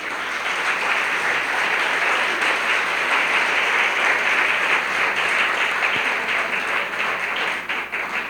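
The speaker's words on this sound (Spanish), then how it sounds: "yo quiero que ustedes hoy le den un fuerte aplauso a Jocelyn" Sustained applause from the audience at a women's church conference, dense and steady for several seconds before thinning slightly near the end.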